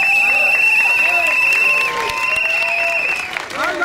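An audience at a Black Lives Matter rally at City Hall bursts into loud, sustained applause and cheering, dense clapping that holds steady before easing slightly toward the end.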